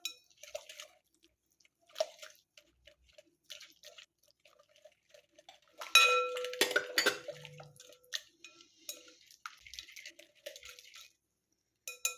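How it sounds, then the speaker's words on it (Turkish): A spoon stirs a spiced sauce in a bowl, with sparse light clinks and scraping taps, a brief louder clatter near the middle, then quiet, scattered contact sounds. "Hemen şimdi baharatlarımızı da şöyle bir ekledikten sonra güzelce bir sosumuzu karıştıralım"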